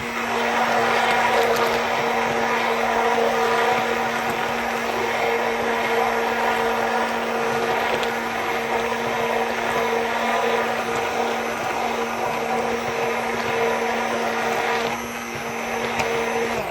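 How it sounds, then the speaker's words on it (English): A multi-speed stick blender whirs steadily and loudly while mixing a homemade winter hydrating lotion, with a constant motor drone and a slight dip near the end. "have a stick blender that has multiple speeds, start on a low speed and then work up."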